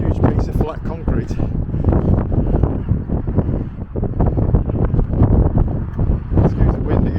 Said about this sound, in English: Excuse the wind again. Really windy again today.